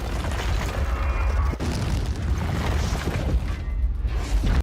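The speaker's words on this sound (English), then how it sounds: "Surtur drives his colossal sword into the heart of the realm, generating an explosion of energy capable of destroying everything." A continuous roaring explosion of energy destroying an entire realm in a Marvel film, loud and sustained with rumbling bursts throughout, no speech.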